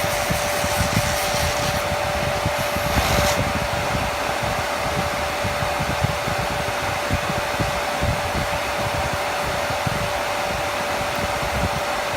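A Ravair three-speed nail dust extractor runs on its highest setting, giving a loud, steady fan roar with a constant tonal hum. A brief rougher scrape comes early on.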